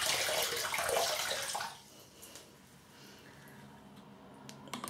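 Tap water runs into a sink to wet the face before shaving, a close, rushing splash for under two seconds that then stops, leaving a quiet room with a few faint ticks and small clicks.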